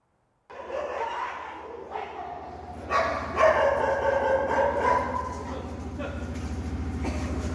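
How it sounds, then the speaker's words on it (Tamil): Street dogs fighting, with repeated yelps, barks and whimpers breaking out in bursts nearby, under a news narrator speaking throughout. "வார்டுக்குள் வந்து தெருநாய்கள் சண்டையிட்டுக் கொள்வதால் நோயாளிகளும் அவர்களது உறவினர்களும் பீதியடைந்துள்ளனர்"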